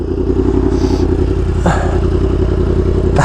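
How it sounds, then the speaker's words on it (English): A Yamaha R1M sport bike idles loudly up close with a steady, thrumming drone, broken by a couple of brief, quick throttle blips. "Last few revs."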